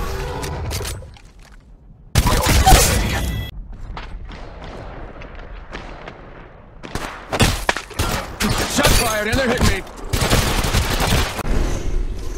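Gunfire in Apex Legends Mobile, loud close shots and rattling bursts in separate volleys, with a heavy crack, scattered thuds and quieter stretches between the exchanges.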